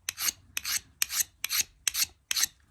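Rasping scrapes of a tool stripping the factory coating from a brand-new ferro rod, six quick, even strokes, close and clear with no talk.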